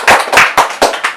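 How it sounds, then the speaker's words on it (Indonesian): Several people in a classroom clap together in a short, loud burst of about five quick, evenly spaced claps, with no voices heard. "Tolong tepuk tangan, diberi aplaus."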